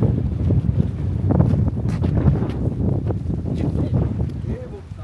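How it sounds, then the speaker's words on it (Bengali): Strong cold wind buffets the microphone over the steady wash of the sea at Gungpyeong port, South Korea, continuous and loud throughout. "সমুদ্রের যে একটা গভীরতা, বিশালতা, এখানে থেকে আসলে শব্দটা শুনতে ভালো লাগছে। একটা ঠান্ডা হাওয়া বইছে"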